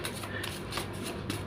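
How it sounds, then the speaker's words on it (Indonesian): A deck of tarot cards is shuffled by hand up close, with soft, rapid riffling and sliding flutters in quick bursts and no voice over them. "Langsung saja saya shuffle kartunya."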